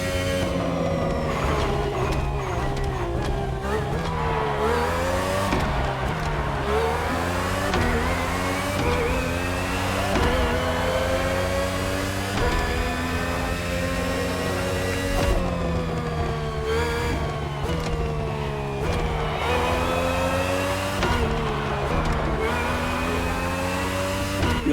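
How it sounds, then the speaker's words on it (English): A Red Bull RB18 Formula 1 car with a Honda V6 hybrid engine screams loudly through repeated upshifts and downshifts, its pitch climbing and dropping in cycles as it races, with no voices. "RB18 is the latest model with more aggressive aerodynamics and a powerful Honda engine."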